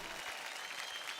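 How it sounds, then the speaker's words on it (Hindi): An audience at a televised poetry show applauds a poet as he is called to the stage, a brief steady patter of many hands clapping at moderate distance. "तालियां।"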